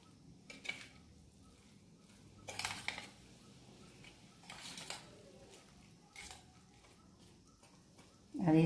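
Zucchini and mayonnaise salad with seasonal vegetables being mixed in a bowl, quiet intermittent clinks and soft wet squishes of a utensil, with a louder clatter at the end.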